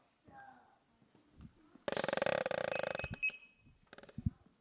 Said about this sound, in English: that is an alarm that lets Firefighter Johnny know when he's getting low on air